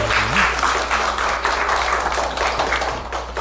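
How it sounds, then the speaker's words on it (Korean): Congregation in a church Sunday service applauding, dense steady clapping filling the room for a few seconds under a low hum, with a brief faint tone at the start. "박수"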